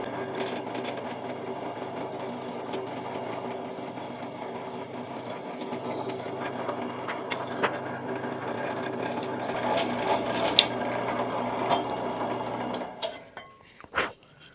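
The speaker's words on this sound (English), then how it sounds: "we're just gonna drill right into here real quick" A drill bores into a woodworking piece with a steady mechanical whir that runs continuously before winding down near the end, followed by a few sharp clicks and knocks.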